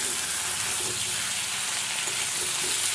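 Chicken fries in a pan with fried onion and garlic paste, giving a continuous dense sizzle and faint stirring scrapes, close and steady throughout, with no talk.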